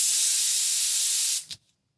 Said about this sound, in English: when you first spray out of even an aerosol can, first bit, just spray.